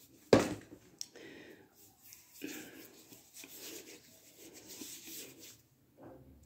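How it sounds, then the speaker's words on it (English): Sunscreen lotion is rubbed onto an arm in short, soft, close swishing strokes separated by brief pauses, after a sharp knock at the start. "Okay, I've got the sunscreen on this arm."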